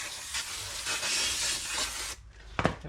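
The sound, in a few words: brake cleaner spray on car parts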